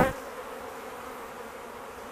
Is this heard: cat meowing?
no